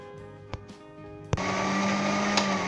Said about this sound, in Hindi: अब इसे मैं ग्राइंड करता हूँ ब्लेंडर के अंदर डाल के।